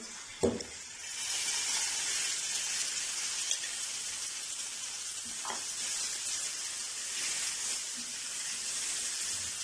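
Ginger-garlic paste and a spice mixture hit a hot pan with a brief clatter, then settle into a steady, fairly loud sizzle that runs throughout with a few small stirring knocks.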